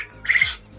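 A chicken at a poultry market lets out one short, sharp squawk, close by and fairly loud, lasting under a second with no talk.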